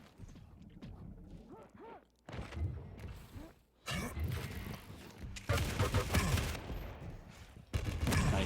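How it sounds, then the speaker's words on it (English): Machine gun fire during a competitive Quake Pro League deathmatch, clattering bursts mixed with other game effects and busy action, growing louder in the second half under an excited commentator's voice. "he turns the corner into a whole boatload of machine gun"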